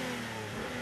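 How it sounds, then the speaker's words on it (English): Cartoon robot car engines rev in a short, loud, steady droning burst, with no voices over it. "We thought it was a good idea to rev things up."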